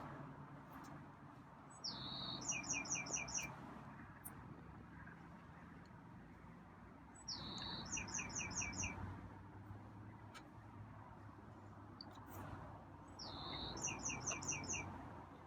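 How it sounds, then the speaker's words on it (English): Short bursts of high, rapid bird chirps repeat three times at regular intervals, fairly faint over a low background hum. "Wow, heard a bird."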